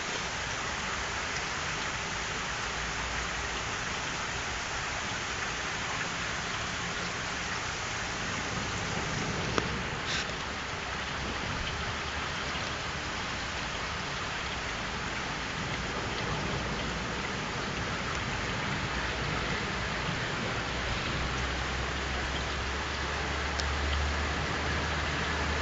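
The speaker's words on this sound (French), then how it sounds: "La pluie, hein, c'est de la pluie." Steady, dense rain falling as a thunderstorm passes, a constant loud hiss across the whole stretch with no pauses and no voices.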